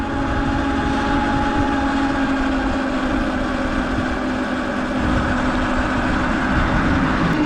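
A stock Sur Ron X electric dirt bike running flat out on a straightaway gives a steady, loud whining drone with rushing wind noise, holding even throughout with no speech.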